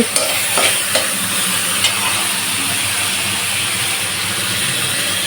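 Masala for a jackfruit curry sautéing in a pan, a loud, steady sizzle with stirring and a few sharp spatula clicks near the start.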